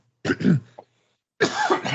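Two harsh coughs from a person close to the mic, a double burst with a short catch after it, then a brief silence and a second rough cough or throat clear.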